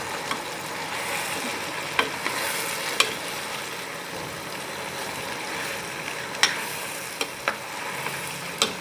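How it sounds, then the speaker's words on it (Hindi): Bottle gourd pieces being mixed with masala in a pan: a continuous sizzle with occasional sharp clicks of a spoon against the pan, steady and close, no talking. "सब्ज़ी को ऐड कर दिया और इसको मसाले के साथ अच्छी तरह से मिक्स कर लेंगे"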